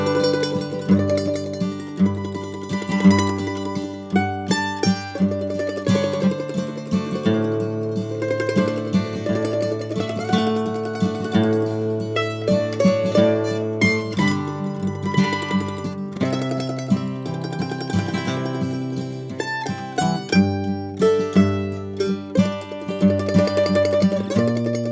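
Mandolin playing a film theme, a steady melodic line of bright plucked and tremolo notes over chordal accompaniment, continuous and moderately loud with no talking.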